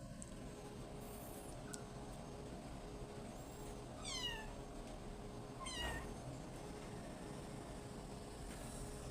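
Rescued kittens meow a few times, thin rising cries at about the middle of the stretch, faint against a constant low background hum, no speech.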